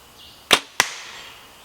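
Arrows tipped with broadheads strike a target block after passing through cow bone during a broadhead test, two sharp close impacts about a third of a second apart, each followed by a brief ringing decay.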